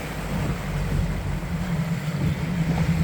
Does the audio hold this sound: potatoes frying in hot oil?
no